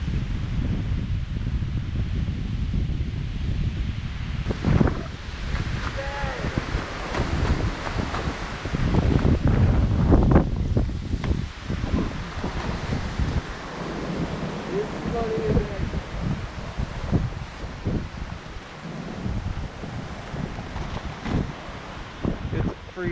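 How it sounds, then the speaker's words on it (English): Strong gusts of wind roar and buffet the microphone continuously as rain arrives and the temperature drops, with rustling and occasional voices underneath. "Well, the rain is here. Very windy."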